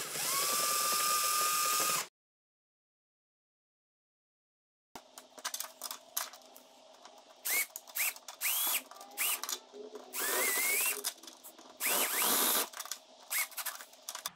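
A screw being tightened down into a car clip: a steady, loud two-second whir like a power driver, then a pause, followed by close, irregular clicks, ratcheting ticks and short squeaks as the fastener seats. No talking.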